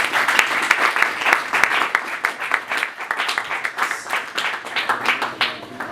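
A church congregation claps loudly and steadily for a woman who gives monthly offerings, the applause rising and easing in waves before thinning out near the end.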